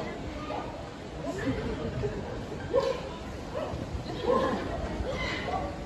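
A parrot at a bird show mimics a dog's bark, giving a couple of short bark-like calls amid steady crowd chatter and background voices.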